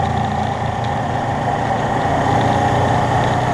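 A motorcycle loaded with camping gear idles nearby with a steady, low rumbling drone and a constant vibrating hum, with no voices present.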